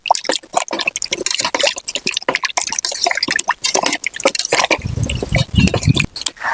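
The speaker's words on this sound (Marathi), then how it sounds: "बटाटे जरा चोळून घेऊ कुठं माती लागली का" Potatoes are rubbed and scrubbed by hand in a vessel of water outdoors on a farm, giving rapid, close sloshing, dripping and squishing splashes that continue throughout without speech.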